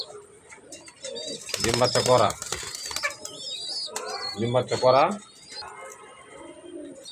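Budapest and racing pigeons coo in soft throaty bursts between bouts of wing flapping, close by, with high chirps scattered through.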